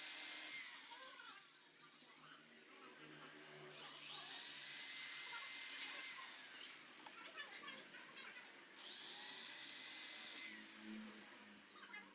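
A high-pitched power drill whines steadily in bursts, drilling holes in a metal loop for an amulet casing, starting and stopping a few times with a continuous mechanical hum and no talk.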